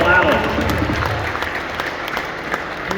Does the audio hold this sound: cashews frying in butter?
no